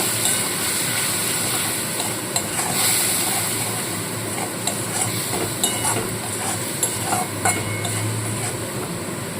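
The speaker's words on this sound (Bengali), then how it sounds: "মশলাটা ভালো করে একটু কষিয়ে নেব" A spice paste of chilli powder, salt and sugar fries in a pan with a little water, giving a steady hiss with scattered crackles and occasional scraping, loud and close throughout.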